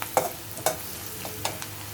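Stir-frying with chili, coriander and cumin powder in a pan: a handful of sharp scraping strokes from a spatula over a low, continuous sizzle.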